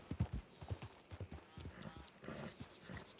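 Horse hooves clip-clopping in a role-play video game, a quick uneven series of soft hoof knocks, fairly close, under a steady high tone.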